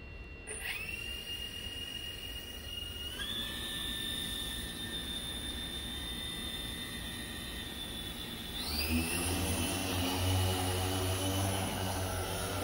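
A 1200mm-wheelbase hexcopter drone holds altitude in a hover, its rotors giving a steady, close buzzing whine that shifts up in pitch twice, growing slightly louder and deeper in the final seconds.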